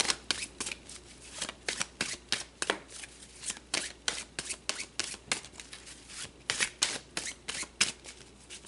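Tarot cards are shuffled by hand, close up, in a quick run of crisp riffling flutters and soft slaps at a steady rhythm, with no talking over them.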